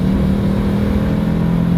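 A car with an engine that has timing trouble and hesitation accelerates on a straightaway during a road test, a loud, steady engine drone with a sustained low hum, heard up close without speech.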